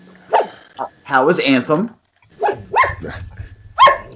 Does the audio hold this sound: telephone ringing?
no